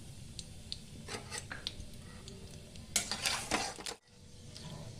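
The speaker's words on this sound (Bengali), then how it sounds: "এই যে ফোড়নটা ভালোভাবে নাড়াচাড়া করা হয়ে গেছে" A spoon stirs bay leaves and nigella seeds tempering in hot oil for a Bengali aloo dum, giving intermittent scraping and clinking over a low oil sizzle before everything goes briefly quiet.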